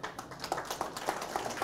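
An audience claps for the cooperative head at a farmers' gathering on rice seedling cultivation, steady scattered applause with soft repeated hand claps at moderate level, no talking over it.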